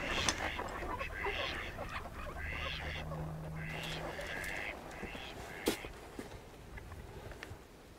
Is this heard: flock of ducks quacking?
yes